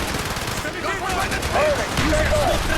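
Gunfire in Call of Duty Black Ops during the Project Nova campaign mission: rapid, continuous bursts of weapon fire mixed with shouted voices, loud and busy from start to finish.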